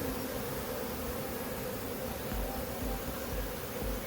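Honey bee swarm entering a hive, heard as a dense, continuous buzzing drone with hissy rustle, steady and fairly loud throughout with no voices.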